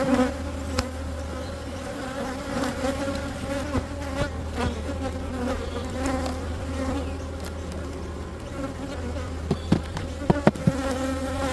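Bees swarming at an opened beehive during a winter inspection, a dense continuous buzz close by with occasional sharper knocks of hive equipment near the end.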